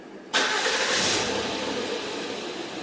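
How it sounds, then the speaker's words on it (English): A 2012 Honda Accord 3.5 engine cranks and catches abruptly, then settles into a steady, loud idle close by. "Start the engine."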